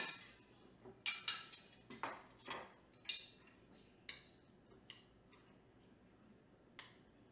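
Spoon clinking against a dish while serving creamy chicken pie, a quick run of bright metallic taps and scrapes that thins out into a few scattered clinks, quiet and close with no talking.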